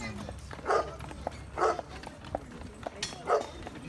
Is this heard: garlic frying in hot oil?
no